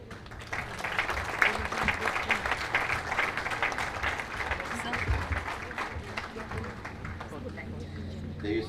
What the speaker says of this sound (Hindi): कृपया इस वक्तव्य के बाद ये तालियां जारी रहें